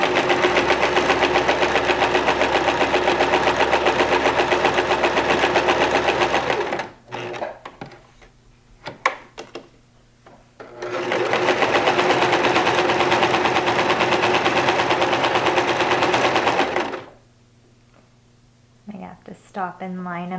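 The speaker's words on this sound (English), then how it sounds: "you're just going to stitch around it to hold the 2 together. You don't have to pin it. Just do a straight stitch all the way around." A sewing machine runs a straight stitch around the edges of a fabric pennant banner, loud and close in two long steady runs separated by a pause full of handling clicks, with a voice speaking lightly in the background.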